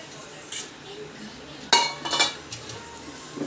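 A metal plate clinks and scrapes a few times as it is handled and oiled by hand, soft, close knocks under a voice speaking.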